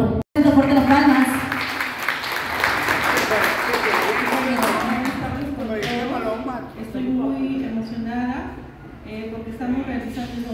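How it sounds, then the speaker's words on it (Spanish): Applause from guests at a baptism celebration party, sustained clapping mixed with crowd chatter and someone speaking over it throughout. "Fuerte las palmas."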